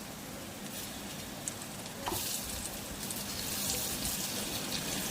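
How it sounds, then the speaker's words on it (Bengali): Steady sizzling of tomatoes and other vegetables frying together in a pan, with occasional stirring scrapes and crackles, close and moderately loud. "সব কিছু একসঙ্গে নেড়ে চেড়ে আমি ভেজে নিচ্ছি"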